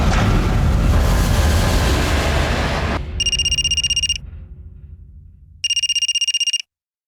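A telephone rings in two electronic bursts of rapid trilling tones, the first after a loud rumbling noise fades out and the second following a quiet pause, then the ringing stops abruptly.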